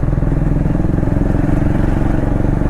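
A Triumph Speed 400 motorcycle climbing a steep hill thrums steadily at low revs, a close, even putter that holds its pace without revving.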